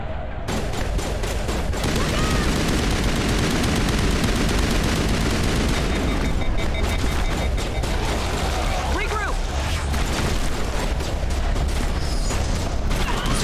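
Gunfire in Mass Effect 1 Legendary Edition, with steady loud shooting and combat noise throughout, heard under a person talking.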